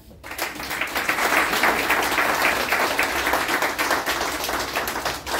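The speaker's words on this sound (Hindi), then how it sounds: "जोरदार तालियां।" Sustained applause from an audience at a retirement day celebration, loud and steady clapping filling the whole stretch with no talk over it.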